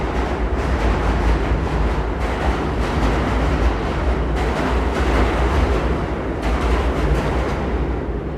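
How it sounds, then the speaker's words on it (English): A deep continuous rumble of a New York City subway train rolls underneath the street in Manhattan, loud and steady with rhythmic surges, no one speaking. "That's the subway underneath me."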